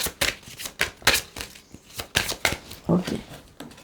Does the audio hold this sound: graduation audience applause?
no